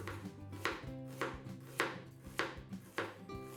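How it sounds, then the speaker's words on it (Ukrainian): A knife finely slicing red onion on a cutting board, about seven crisp, evenly spaced chops at a steady rhythm, close and clear, with no talk. "тонко нарізаємо червону цибулю"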